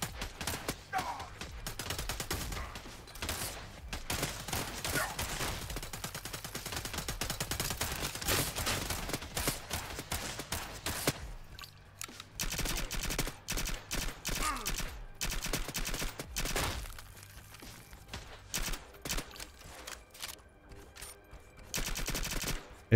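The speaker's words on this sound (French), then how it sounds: "mais c'est un shotgun" Shotgun fire in the top-down co-op shooter CyberCorp, rapid repeated blasts in long dense volleys with brief gaps between bursts, loud and sharp throughout.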